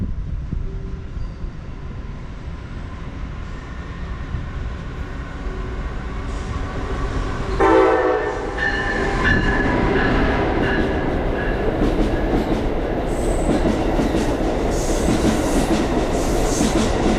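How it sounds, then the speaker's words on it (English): Amtrak Regional Train 167 passes at night on track 3, a rumbling rush that swells as it arrives, a brief horn note partway through, then loud clattering wheels as the cars stream by close. "Amtrak Regional Train 167 came streaking out of the darkness with another friendly engineer on track number 3"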